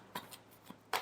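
Tarot cards are shuffled in a brief, quiet burst of crisp riffling and papery flicks, a few short rustles close up with no talking.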